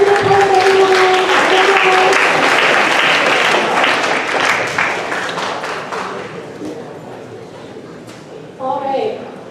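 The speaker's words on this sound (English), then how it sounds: "Round of applause to the board, everyone." An audience at a high school spoken word poetry competition applauds the judging board, a sustained round of clapping that gradually thins out and fades before a voice returns.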